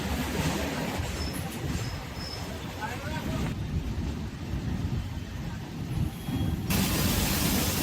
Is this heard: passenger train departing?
yes